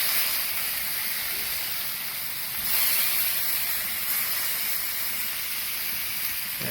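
Meat searing for street tacos on a hot outdoor cooking surface gives a loud, steady, close sizzle and hiss that runs without a break, with a brief swell partway through.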